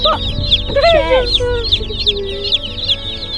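Baby chicks peep in rapid high chirps throughout, close by, with a brief louder warbling call near the start and a low background hum.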